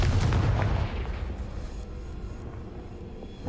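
A Confringo blasting spell goes off in Hogwarts Legacy, a loud close boom that rolls off into a fading low rumble over a few seconds.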